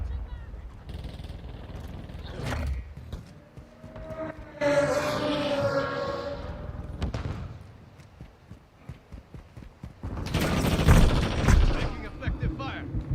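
Gunfire in Call of Duty Modern Warfare II, with bursts of automatic shots and booming reports spread through the clip, a loud cluster near the end, mixed with game voice lines and other effects.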